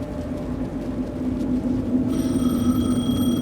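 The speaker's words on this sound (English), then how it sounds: "The phone again." A telephone rings in the survival horror game Alan Wake 2, its trilling bell tones starting about two seconds in over a steady low ambient hum, close and clear.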